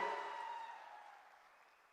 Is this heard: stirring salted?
no